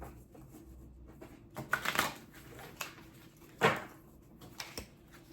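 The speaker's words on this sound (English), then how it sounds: "So I'm going to just shuffle these real quick, see if we can get a good one." Quick riffle shuffles of a deck of oracle cards, close and quiet, in a few short bursts of crisp flutter separated by soft handling noises.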